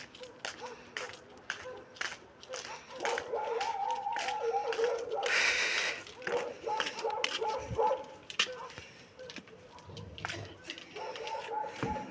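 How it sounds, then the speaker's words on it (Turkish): A dog barks and yips several times outdoors, moderately distant, amid background noise and a person talking. "Karşıda köpek var."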